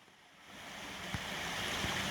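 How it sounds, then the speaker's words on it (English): Brown Mountain Creek flowing behind a sign near a hiking shelter on the Appalachian Trail, a soft, distant, steady watery rush that grows slightly louder, with no talking. "Brown Mountain Creek, you can probably hear, is right behind the sign"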